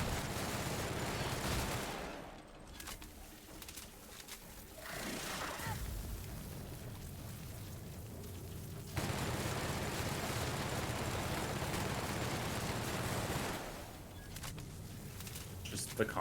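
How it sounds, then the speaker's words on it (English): Rapid bursts of gunfire in the Outer Worlds video game, aimed at a swarm of flies, crackling loud and dense over several seconds with brief lulls, while someone talks over it. "Just the concept of shooting bullets at a swarm of flies."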